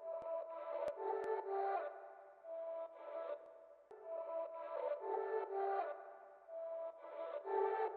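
Chopped ambient guitar samples, made in FL Studio 20 and processed through reverb and effects, play as sustained tonal phrases in short segmented bursts with brief gaps between chops, moderately quiet and without any voices.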